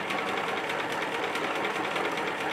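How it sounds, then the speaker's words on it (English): A sewing machine runs steadily, stitching a seam on a quilt-as-you-go tote bag with a fast, even mechanical whir and clatter, close up and without pause. "Now if you have a reverse mode on your sewing machine, hit the reverse button and go backwards."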